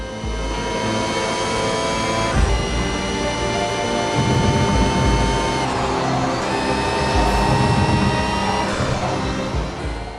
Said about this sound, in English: sounds like a Mercedes engine with that turbo noise in the background as well